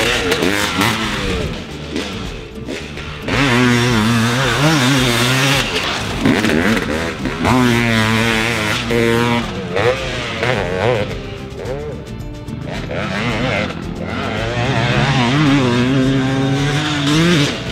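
A custom-built KTX500E two-stroke motocross bike runs loud and close, its engine revving up and down in repeated rising and falling pulls with a raspy, buzzing tone throughout.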